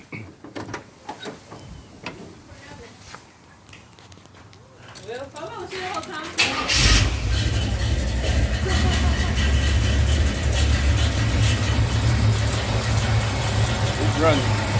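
Car engine cranks and catches partway through, then settles into a loud, steady idle with a fresh serpentine belt installed, after a stretch of quieter workshop handling noises.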